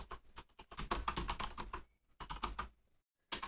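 Code is typed on a computer keyboard in quick bursts of close, crisp keystrokes, with a pause in the middle and a short burst of keys starting again at the end.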